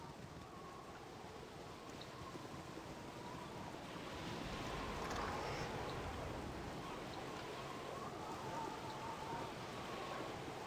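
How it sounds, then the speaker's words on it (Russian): Video game rain falls in a dark city alley in Baldur's Gate Enhanced Edition, a faint, steady hiss and patter that carries on evenly throughout without breaks. "еще и дождь пошел, вообще отлично"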